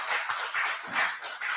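A church congregation claps together in praise during a Sunday service offering, a dense, steady wash of many hands with slight swells, filling the room without any voices over it.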